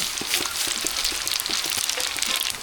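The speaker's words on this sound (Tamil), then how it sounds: "ஜீரகம் நல்லா பொரிஞ்சிருச்சு" Cumin seeds spluttering in hot oil for sambar rice, a close, busy crackling sizzle with rapid irregular pops throughout.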